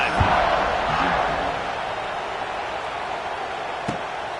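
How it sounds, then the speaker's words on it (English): A college football video game crowd at a USC versus Notre Dame rivalry matchup roars steadily, a dense stadium din that holds for several seconds, with a few dull thuds near the start and a single sharp knock toward the end. "this crowd is feeling themselves after that last drive"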